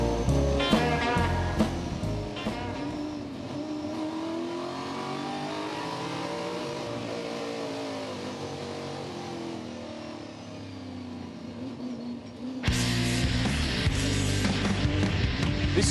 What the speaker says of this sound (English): this is Touring Car Masters, and this is a 69 Camaro